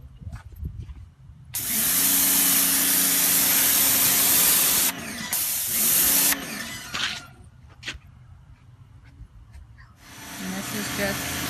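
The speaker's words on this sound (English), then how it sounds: "this is just the 0-degree, spraying all of the red mud out of our driveway" An Ivation electric pressure washer with a 0-degree nozzle blasts red mud off a driveway, a loud steady hissing spray that cuts off and restarts several times over a motor hum, with someone talking in between.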